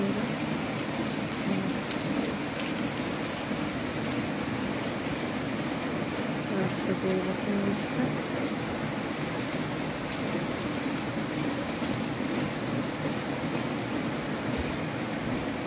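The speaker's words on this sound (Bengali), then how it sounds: "বৃষ্টি বৃষ্টি" Steady, heavy rain falls continuously and close by throughout, a dense wash of drops with no pauses; a voice speaks briefly and faintly beneath it.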